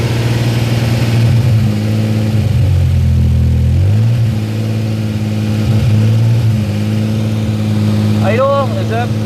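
A car engine idles steadily with a low hum, then is throttled up and revs unevenly before dropping back to idle, with people talking over it throughout.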